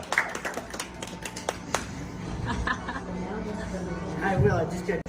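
Scattered hand clapping for a birthday girl breaks out amid lively chatter and voices in a room, with a burst of claps early on that blends into general crowd noise.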